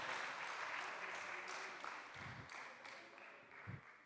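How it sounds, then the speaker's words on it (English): Polite applause from a conference audience for a panel at a sustainable blue economy kick-off meeting, a soft, steady wash of clapping heard at a distance with faint low thumps underneath. "applause to this wonderful panel"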